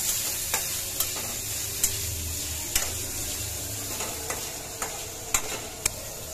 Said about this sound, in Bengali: লুটকা শুটকি আলু দিয়া আজকে রান্না করে খাবো।